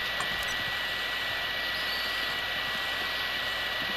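A helicopter in Call of Duty Warzone drones steadily and loudly as a broad rushing roar with no talk over it.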